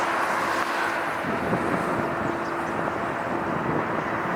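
A jet airliner on approach to LAX during reverse operations, heard as a steady, broad roar that stays loud and continuous throughout, with some wind noise on the microphone.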